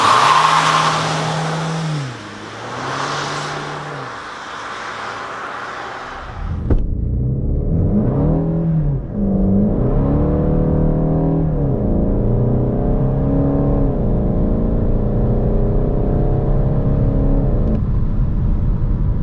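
A Volkswagen Golf 8 GTD with 200 hp accelerating hard without launch control, heard from inside: an idle rumble, then a loud surge of diesel engine with rising revs, several gear shifts and a steady droning climb.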